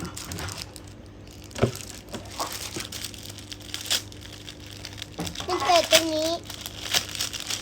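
Crinkly plastic crumpling and tearing up close as a blind box package is unwrapped, in short bursts, with a voice chattering now and then.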